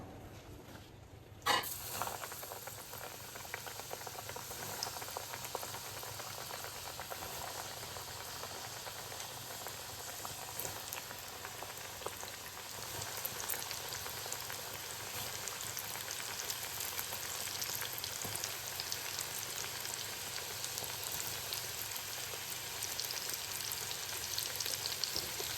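Marinated chicken pieces go into hot oil for homemade KFC-style fried chicken: a sharp burst as they hit the pan, then a continuous crackling sizzle that builds slightly and carries on without any talking.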